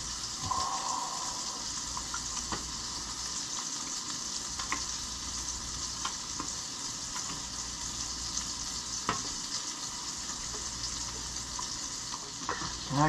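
Slices of toast fry on a hot griddle with a steady close sizzle, faint scraping clinks from a utensil coming and going over the constant crackle.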